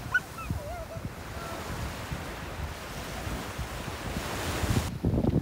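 Ocean surf rolling onto a sandy beach at Gwangalli or Haeundae in Busan on a hot, sunny day, a steady broadband wash of breaking waves with some wind buffeting the microphone, continuous and fairly loud throughout.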